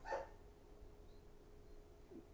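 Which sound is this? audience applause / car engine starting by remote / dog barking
dog barking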